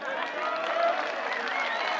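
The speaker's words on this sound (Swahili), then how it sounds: "Sasa hayo makofi peke yake hayatoshi" An audience at a CHADEMA political gathering applauds in a steady, dense wash of clapping that holds evenly for a couple of seconds, with faint voices mixed in.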